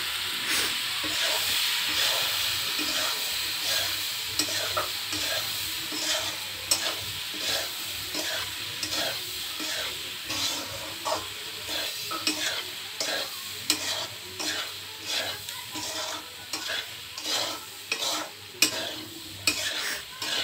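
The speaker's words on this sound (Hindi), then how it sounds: "और पास्ता डला रहा है, डला गया ना पास्ता।" Pasta is stirred in a hot frying pan, with a steady sizzle and hiss under repeated scraping strokes in a regular rhythm, close and fairly soft.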